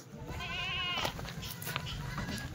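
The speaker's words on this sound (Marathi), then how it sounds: "हे बघा शेळ्या कशा आहे." Native-breed goats at a goat sale bleat in a wavering, quavering cry near the start, followed by softer scattered bleats and shuffling at a low overall level.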